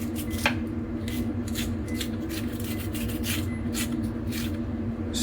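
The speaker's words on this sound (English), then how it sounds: "Scrape the inside of the pepper pretty good" A small spoon scrapes the seeds and membrane from inside a fresh pepper in a home kitchen, producing steady, close, repeated scratchy strokes over a constant background hum.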